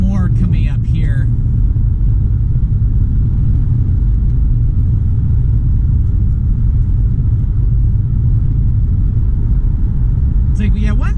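A car driving east on Interstate 80 in Pennsylvania gives a constant loud road and engine rumble throughout, and someone talks briefly at the start and again at the end.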